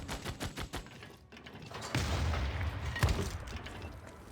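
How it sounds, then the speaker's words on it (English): Artillery units firing in the strategy video game Civilization VI, a cluster of sharp gunfire bursts followed by heavy booming blasts and a sustained rumbling roar, loud and close with no talk. "This artillery army can fire here."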